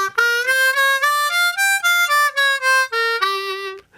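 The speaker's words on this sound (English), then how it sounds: "I'm on a C harmonica. I'm going to be using the blues scale personally." Blues scale on a C harmonica in the middle octave, a run of about a dozen clear, separate reedy notes stepping up and back down, close and solo.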